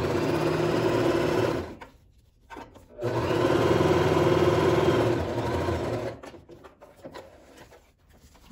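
A sewing machine stitches a synthetic leather lining in steady running bursts, pausing briefly twice before starting up again, then ending in short stop-start runs.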